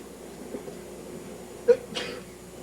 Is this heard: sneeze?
yes